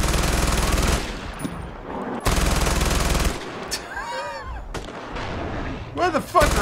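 Loud bursts of rapid gunfire are aimed at a rhino, coming in several heavy volleys separated by short gaps, with brief whooshing and sliding effects between them.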